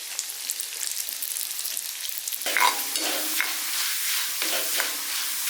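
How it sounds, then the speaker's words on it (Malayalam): Washed, drained black gram (urad dal) dropped into hot oil, a quiet hiss until a sudden loud crackling burst of frying, then a steady busy sizzle with stirring scrapes, close and without talk. "ചൂടായതിന് ശേഷം നമുക്ക് ഈ ഉഴുന്നുപരിപ്പ് ഇതിലേക്ക് ഇട്ടൊന്ന് വറുത്തെടുക്കാവേ."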